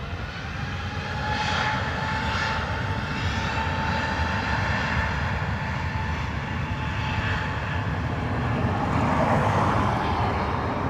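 Aircraft engine roaring at Dublin Airport, a steady loud jet drone holding for several seconds and swelling slightly toward the end, with no talking.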